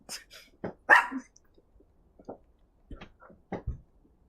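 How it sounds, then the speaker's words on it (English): A dog indoors gives a series of sharp, close barks and yips, several short bursts spaced irregularly with brief quiet gaps between them. "Why the heck is my dog in my room?"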